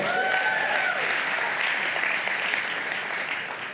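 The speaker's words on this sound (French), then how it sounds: "Acclamez quand même, ne sois pas jaloux." A church congregation breaks into steady, full applause, a dense wash of clapping that holds evenly throughout with a faint tone briefly audible at the start.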